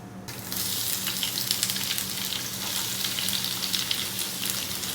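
Fennel seeds fry in hot oil for a Kerala pork roast, giving a steady, close sizzle that starts abruptly and holds loud and even, with no talking.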